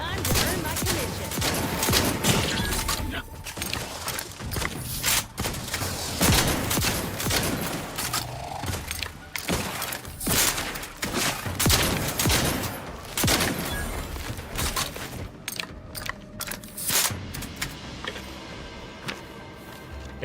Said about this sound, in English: I'd say the shotgun works pretty good